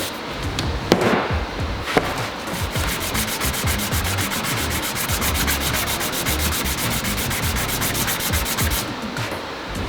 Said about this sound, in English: I have started to polish the end, and I'm just gonna take this up to a higher grit